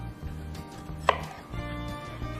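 A kitchen knife chops cherry tomatoes on a board for fritters: a handful of soft, irregular cutting taps with one sharper knock midway, close and clear over a low background hum.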